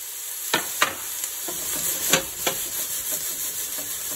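Chopped vegetables for lentil soup sizzle steadily in a hot pot, a soft continuous frying hiss broken by several quick stirring scrapes and clinks spaced across the few seconds, with no talking.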